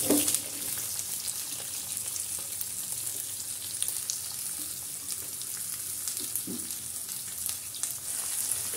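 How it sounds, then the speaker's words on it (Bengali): Half a kilo of sliced onions fry in hot oil with bay leaf, cinnamon and cardamom as the base for a mutton curry in a pressure cooker, giving a steady close sizzle with occasional stirring scrapes. "পেঁয়াজগুলো একটু ভাজাভাজি করে নেই।"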